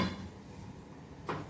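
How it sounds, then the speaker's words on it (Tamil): A lid goes onto a cooking pot of mushroom and vegetable biryani with a single soft, brief knock near the end, following a quiet stretch of faint room noise. "மூடி வச்சுக்கலாம்."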